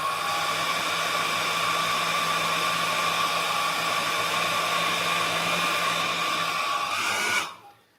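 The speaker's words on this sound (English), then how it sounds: "I'm just drying the pot here because I don't want to dry these dots" A hair dryer blows steadily up close while drying a painted mini cactus pot. The loud, even whirring roar runs unbroken for several seconds, then cuts off abruptly near the end.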